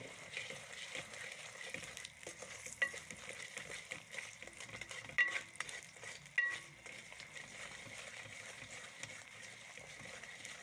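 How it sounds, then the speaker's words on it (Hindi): Sugar stirred and fried in ghee in a pan for suji halwa, village-style cooking: a soft continuous sizzle with scraping spoon strokes and a few louder clacks against the pan, no talking. "अच्छी तरह से चीनी को भूनेंगे घी में"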